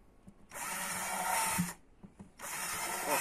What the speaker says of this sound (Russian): И делаем отверстие столько, сколько считаем нужным.